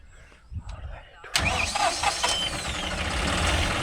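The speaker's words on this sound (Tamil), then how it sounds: "இந்த ஏடி மாடல் மட்டும் இன்ஜின் இழுத்து தான் ஸ்டார்ட் ஆகுது" A John Deere 5405 CRDI 4WD tractor engine is cranked after a few quiet moments of voices, then catches and settles into a steady rumbling idle.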